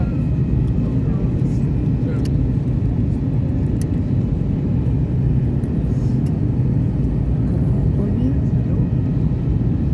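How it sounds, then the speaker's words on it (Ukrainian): Airplane landing in Kraków, a loud steady cabin rumble from the engines that stays constant throughout, with voices talking over the roar. "Ми сідаємо у Кракові."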